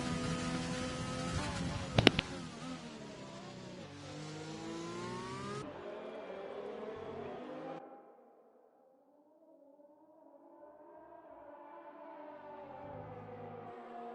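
Formula 1 car in an esports video game racing a lap of the Austrian Grand Prix circuit, engine note climbing and shifting through gears, with a brief sharp spike early, then fading to a quieter, lower whine.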